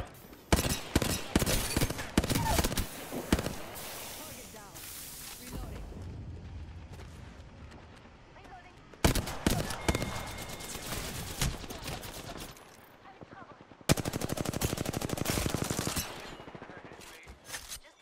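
Rapid automatic gunfire in the video game Apex Legends comes in three loud clusters of dense, crackling bursts, with quieter gaps between them.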